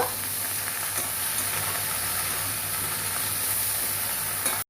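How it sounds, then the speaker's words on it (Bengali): Okra frying with chopped onion in a pan, a dense steady hiss of sizzling oil with faint stirring scrapes, close and continuous with no voices. "ঢ্যাঁড়স দিয়ে আমি ভালো করে নাড়তে থাকবো"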